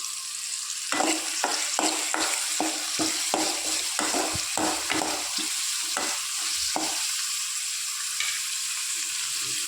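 Onions sauté in a pan with a steady sizzle under a rhythmic run of spatula scrapes and stirs, about a dozen strokes, then the sizzle continues alone, close and without voices.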